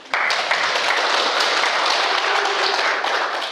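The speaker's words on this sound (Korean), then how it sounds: "박수 한번 주시지 그래" Lecture audience in Ulsan breaks into steady, dense applause, loud and sustained for several seconds from start to finish.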